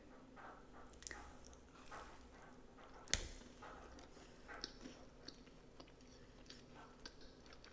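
Someone bites into and chews a strawberry cupcake from Crumbl with strawberry frosting, giving soft, close, quiet moist chewing and squishing sounds with one sharper bite near the middle.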